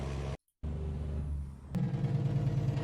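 A Cummins N14 diesel truck engine in American Truck Simulator runs at a steady low rumble, cuts out briefly, then comes back with a harsher, louder pulsing drone like an engaged Jake brake.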